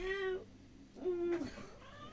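A house cat meows twice in close succession, near and fairly loud, each call a drawn-out tonal cry with a short pause between.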